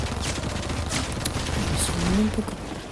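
Rapid bursts of gunfire during Fortnite gameplay, loud and continuous in the game audio, with a voice talking faintly in places.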